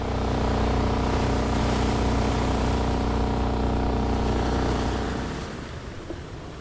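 A Carnival cruise ship sets sail on a Caribbean cruise, giving a loud steady rush of engine and wash of water that holds constant, then eases and fades near the end, with no voices.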